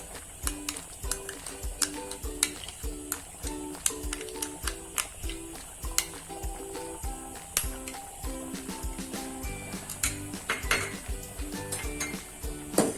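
A spoon stirs kheer with cream in a pot, clinking and scraping repeatedly against the metal in an uneven, continuous rhythm, close and clear with no talking.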